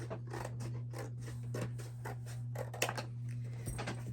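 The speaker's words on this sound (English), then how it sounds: "I just take the box lid with the picture and cut it off and trim off the flap." Scissors snip through a cardboard box lid, cutting off the picture panel and trimming the flap, in a run of short, close, crisp cuts over a steady low hum.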